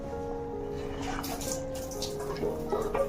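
Water running steadily from a tap into a pot while raw chicken is rinsed for an Odia-style coriander chicken curry, a continuous rushing splash with small sloshes toward the end, no talk.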